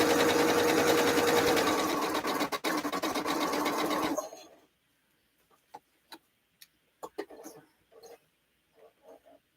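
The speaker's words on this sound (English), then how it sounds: "So I will sew off the edge of that one." A sewing machine stitches quilt blocks at a two-stitch length, running in a steady loud whir for about four seconds, then stopping and giving way to scattered clicks and small handling taps.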